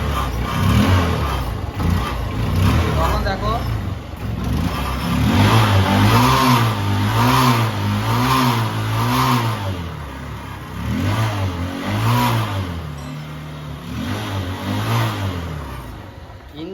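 A Honda CB Trigger motorcycle engine runs after starting, revving up and down in repeated rising-and-falling surges at close range, with someone speaking briefly over it.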